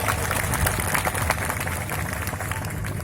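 Crowd applauding at a large tribal unity convention in India, a dense, steady wash of clapping filling the hall, fairly loud and continuous throughout.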